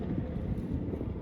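Wind gusts buffet the microphone at a cold lakeside, a low, dense rumble that fills the short moment with no voice.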